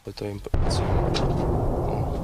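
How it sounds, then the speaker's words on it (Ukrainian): Artillery booms in a forest near Kreminna, a single heavy blast followed by a long rolling rumble that fills the rest of the moment, loud and close, after a brief voice at the start. "Навколо у лісі весь час гримить артилерія."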